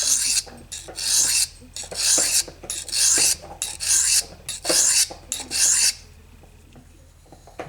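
A knife blade is stroked along an Eze-Lap 400/600 diamond sharpening stone in a run of about a dozen crisp, rasping strokes, close and fairly loud, that stop abruptly and leave near silence.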